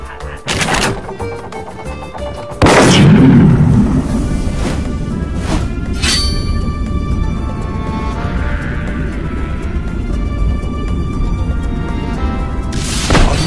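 Cannon-style shots and crashing impacts bombard a castle in an Xbox 360 Kinect game, a few loud booming hits spaced several seconds apart over a steady musical game backdrop.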